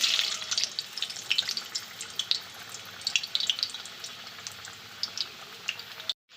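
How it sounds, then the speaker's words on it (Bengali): Potatoes fry in mustard oil in a wok, giving a fine, steady sizzle with small crackling pops throughout, moderately close and fairly quiet, cutting off abruptly at the end. "এখন কড়ার মধ্যে দিচ্ছি সর্ষের তেল আলুটা ভেজে নেবো আলুগুলোকে দিয়ে দিচ্ছি"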